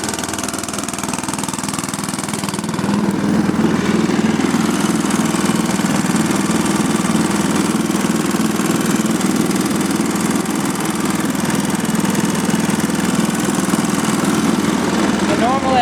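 A small engine on a Tarco sander runs steadily after a cold start with no choke, a loud, even mechanical drone that picks up slightly after a few seconds and holds constant throughout.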